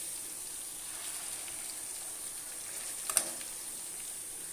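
Chicken 95 roast fries in a pan with a steady, soft, even sizzle throughout, close but not loud, with one brief crackle near the end and no talking.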